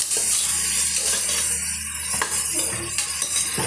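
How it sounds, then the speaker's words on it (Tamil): Onions sauté in a pressure cooker for chicken gravy, giving a steady loud sizzle broken by a few scraping stirs of a utensil against the metal pot, with no talking. "இப்போ இந்த வெங்காயம் ஓரளவுக்கு கலர் நல்லா சேஞ்ச் ஆகிட்டு வரட்டுங்க அது வரைக்கும் நம்ம வதக்கி எடுத்துக்கலாம்"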